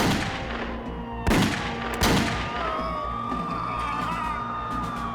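Gunfire in a school shooting, with a few sharp loud bangs early on and a faint voice and ringing tones lingering between the shots.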